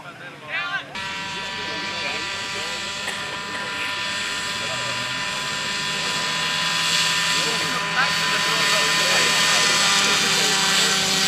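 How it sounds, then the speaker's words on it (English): Radio-controlled model airplane at an SAE Aero Design competition, its engine giving a steady, loud buzzing drone throughout with a layer of outdoor crowd noise beneath it. "Their spoilers are bringing the plane to a halt."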